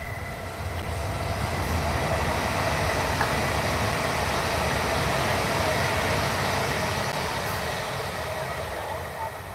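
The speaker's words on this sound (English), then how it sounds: "There's a train on the other side of where I'm at that passes through." A train rumbles past on the far side of a park, a loud, steady low roar with a faint tonal whine that holds for the whole stretch without easing.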